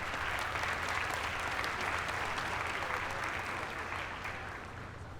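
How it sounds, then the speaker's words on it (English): An audience at a dual enrollment recognition ceremony claps in sustained, even applause that fills the room, fading slightly toward the end. "We can clap."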